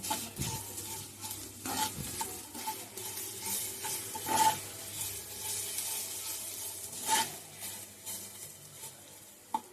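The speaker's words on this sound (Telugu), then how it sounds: "ఇవి కొంచెం ఫ్రై చేస్తున్నాం" Fish frying in a pan with steady oily sizzling and repeated scraping stirs, close and fairly loud, with no talking.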